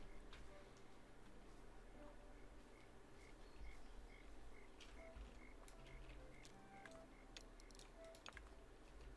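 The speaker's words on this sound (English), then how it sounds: "The crickets are out." Faint, steady chirping of crickets in the Tiny Glade video game, a repeated high ticking pattern over a low hum of ambient background noise, with no other sounds in front.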